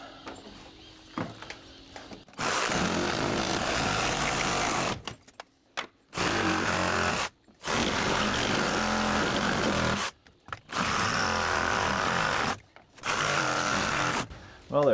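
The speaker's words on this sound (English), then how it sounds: "the reciprocating saw makes quick work of that. We've got a nice little metal blade on here. We're just cutting through some nails." A reciprocating saw fitted with a metal-cutting blade slices through nails during a porch and bay window rebuild on an old house, running in several loud sustained bursts separated by brief pauses, close to the microphone.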